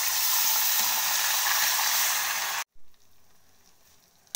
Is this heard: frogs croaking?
no